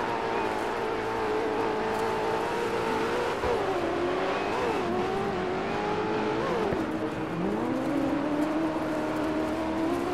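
A rally car engine in the racing game Dirt 4 drones loudly and continuously, its revs wavering and dipping through corners as the throttle is eased and reapplied.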